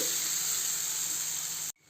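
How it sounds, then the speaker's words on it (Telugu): Curry is poured into hot oil tempering, a loud, continuous sizzle that hisses steadily, then cuts off abruptly near the end. "ఈ కర్రీని తీసుకెళ్ళి మనము ఈ వేయించుకున్న పోపులో వేసేసుకోవాలండి"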